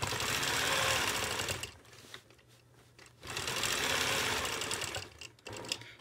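Sewing machine quilting a continuous orange peel design, a fast close mechanical stitching buzz that runs, pauses briefly, then resumes in loud bursts with no talking.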